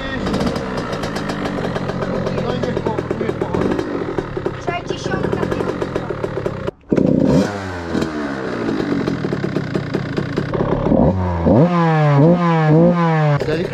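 A dirt bike engine kicks and sputters, briefly cuts out, then fires and revs up and down in rising and falling bursts, loud and close, with people talking over it.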